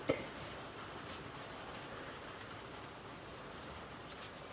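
Rain falls outside as a soft, steady, faint hiss that continues evenly throughout, with no talking.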